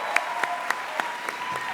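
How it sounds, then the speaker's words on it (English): An audience at an awards ceremony for concept art claps steadily, a dense wash of applause with a few sharper, evenly spaced claps standing out close by. "Can we give him a big round of applause?"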